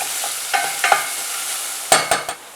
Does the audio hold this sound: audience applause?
no